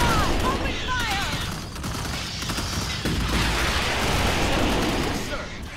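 Squad gunfire in Starship Troopers: Terran Command rattles in dense, overlapping bursts mixed with battlefield booms, loud and continuous, with voices heard amid the shooting.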